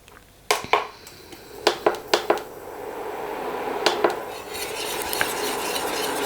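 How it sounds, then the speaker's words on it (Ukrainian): A utensil stirs an egg and juice mixture in a saucepan for an orange tiramisu cake, with a series of sharp clinks and scrapes against the pan over a steady background hiss, loud and close. "Все перемішуємо, повертаємо в сотейник."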